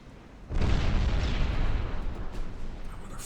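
A shell striking a battleship in Ultimate Admiral: Dreadnoughts, a sudden heavy boom followed by a long rumbling roar that slowly fades.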